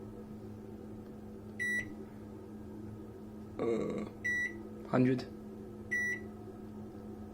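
A microwave oven is set and started, its keypad giving three short electronic beeps spaced a couple of seconds apart, with rustling and a person talking throughout.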